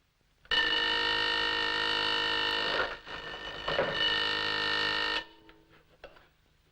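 Ticker tape timer with carbon paper discs running during a trolley collision experiment, a loud harsh electric buzz starting abruptly, holding for several seconds with a brief dip, then cutting off.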